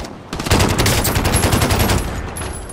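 Rapid automatic gunfire rattles loudly in a dense, continuous burst lasting about two seconds, then trails off into ringing echoes.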